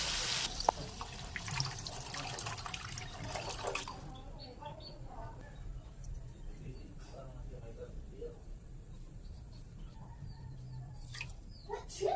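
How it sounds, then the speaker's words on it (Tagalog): Water is poured into a cooking pot of sautéed onion, ginger and tomato, giving a loud rushing splash for the first few seconds that then settles into quieter bubbling and dripping. "Maglagay na tayo ng tubig."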